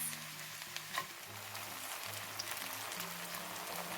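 Onions for jambalaya frying in a pot until browned, a quiet continuous sizzle with faint popping crackles and the occasional soft clink of a spoon.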